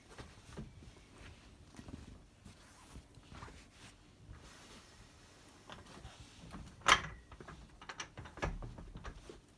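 Fabric and frame mechanism of a longarm quilting machine during quilt binding work, with soft mechanical clicks and rustling as the quilt is rolled, and one sharp louder click near the end.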